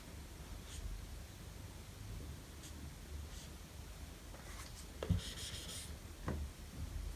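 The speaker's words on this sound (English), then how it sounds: "So we can write them like this." Pen strokes writing Arabic letters by hand, a faint, quiet scratching on paper with a few slightly louder strokes near the end, no talking.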